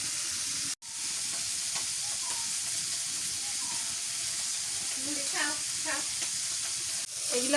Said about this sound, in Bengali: এগুলা মাছ ভাজা হয়ে গেছে, এখন নামায়নি